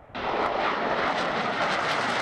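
Fighter jets flying during joint Ukrainian-Polish air force exercises in the Carpathian region, heard as a loud, steady broadband engine roar that starts abruptly and holds without a break, with no voices.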